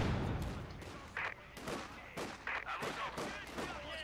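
Gunfire and explosions in the WWII strategy game Company of Heroes 2, scattered bursts and thuds at moderate distance across a busy battlefield mix, with no clear single shot standing out.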